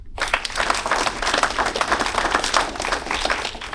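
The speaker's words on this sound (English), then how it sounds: "Everybody, please give a round of applause for the Worshipful Master Jason Vance." A lodge gathering at an installation of officers gives the Worshipful Master a round of applause, a full, close burst of many hands clapping that begins abruptly and stays strong throughout.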